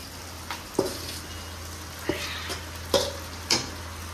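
Marinated chicken goes into a pan of sizzling biryani masala, a low steady fry punctuated by several sharp stirring knocks and scrapes against the pan.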